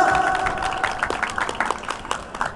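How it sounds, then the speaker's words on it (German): An audience at a Ramadan festival in Bochum applauds Klaus Sammer, a loud, dense patter of many hands clapping with crowd voices mixed in, gradually thinning toward the end. "Ein Applaus für den Klaus Sammer!"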